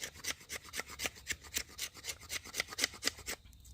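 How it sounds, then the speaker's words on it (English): Quick rhythmic scraping of a Beavercraft knife carving shavings from wood, about a dozen close, crisp strokes in steady succession with no talking. "I like to make some feathers first and then do the scrapings or shavings"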